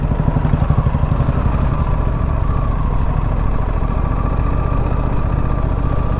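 A motorcycle engine runs steadily and close on a commute to the office, a low continuous rumble with no speech over it.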